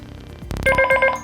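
A short electronic SMS notification chime from a DMR handheld radio, a quick burst of bright tones followed by a brief melodic ringtone-like phrase, close and clear.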